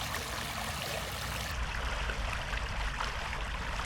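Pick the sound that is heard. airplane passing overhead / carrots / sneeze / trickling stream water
trickling stream water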